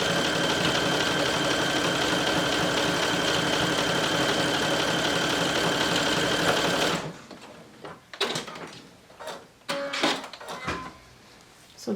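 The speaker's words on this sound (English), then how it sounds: "for this step you can definitely use your cover stitch machine." A cover stitch machine top stitches a pocket on a cardigan, humming loudly and steadily up close for about seven seconds, then stopping, followed by a few short handling knocks and rustles.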